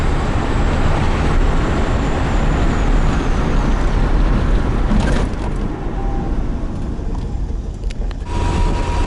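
A Ford Escort with a 1.6 CHT engine pulls in fourth gear, its close, loud engine roar steady at first and then easing off slightly partway through, with road rumble underneath and no talking.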